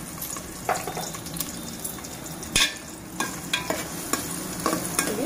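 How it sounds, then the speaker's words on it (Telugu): Onion pieces and green chillies fry in hot oil for gongura chicken, a steady close sizzle broken by repeated scraping stirs of a spoon against the pan, with no talking. "ఉల్లిపాయ ముక్కలు వేగుతున్నాయి"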